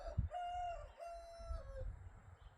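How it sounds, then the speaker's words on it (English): A backyard rooster lets out a single drawn-out crow in a couple of stretched, wavering notes, close and clear over low background rumble while puppies are nearby during car engine work. "my rooster's a bit noisy, eh?"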